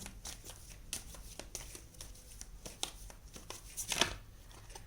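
Tarot cards are shuffled by hand in a quiet room, a series of soft riffling and slapping bursts with short pauses between them and a louder flurry near the end.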